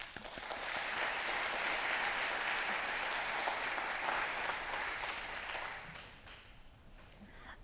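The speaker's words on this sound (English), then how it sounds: "Let's give a round of applause to all speakers and moderators on stage." At a distinguished lecture in Hong Kong, an audience claps for the speakers and moderators on stage; the applause is fairly soft and distant, holding steady for about six seconds before fading into quiet room tone.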